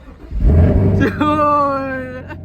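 A rebuilt, previously wrecked 2021 Chevrolet Camaro SS 1LE fires up with a loud, close crank and catch, then a short rising rev that settles, while people talk excitedly over it.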